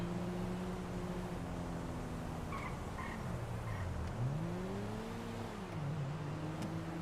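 A car in Grand Theft Auto V, running the 5Real mod, drives fast with a steady engine drone whose pitch rises and falls through gear changes. Faint chimes sound in the middle, and no one speaks.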